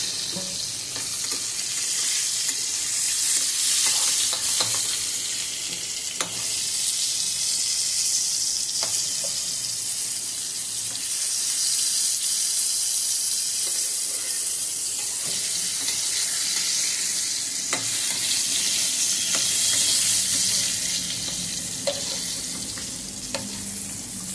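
Pointed gourd (potol) frying in hot oil, a loud, continuous hiss and crackle up close, with occasional soft knocks as pieces are shifted around the pan.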